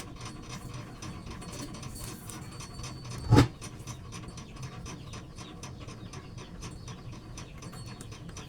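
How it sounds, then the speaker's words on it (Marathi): Sewing machine stitching tucks on a blouse, a quiet, fast, even mechanical ticking that runs throughout, with one brief louder knock partway through. "आता शिलाई करणार आहे"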